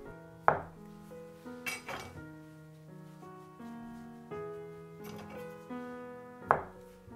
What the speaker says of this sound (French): Je le coupe en 12 parts égales.